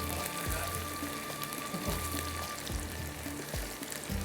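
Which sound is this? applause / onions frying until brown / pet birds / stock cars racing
onions frying until brown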